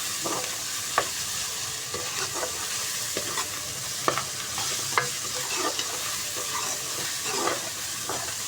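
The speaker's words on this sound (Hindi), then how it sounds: "अच्छे तरीके से इसको फ्राई करेंगे, प्याज को, लहसुन अदरक को, टमाटर को, सारी चीज़ों को" Masala of onion, garlic, ginger and tomato frying in a pot for chicken aloo shorba, with a steady loud sizzle and occasional sharp stirring scrapes and clicks throughout.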